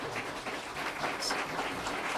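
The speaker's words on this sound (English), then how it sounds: "Let's applaud." Faint, steady applause from an audience at a talk on advancing LGBTQI2 rights, a soft wash of many hands clapping at low volume throughout.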